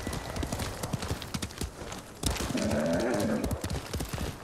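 Horse hooves clip-clop at a steady trot in the PS4 video game Ghost of Tsushima, close and continuous. A short horse call rises partway through.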